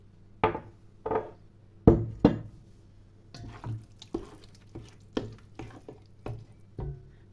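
Olive oil poured into a preserved roasted-eggplant jar recipe, heard as a series of close, separate liquid plops and glugs at an uneven, loose rhythm over a quiet background.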